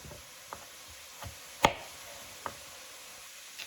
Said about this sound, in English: The only other thing that I need to chop up is my kale.